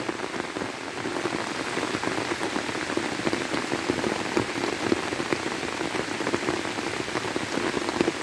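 Heavy rain pours steadily onto a flooded garden in Thailand, a dense, even hiss of drops hitting water and surfaces, close and continuous throughout with no voices.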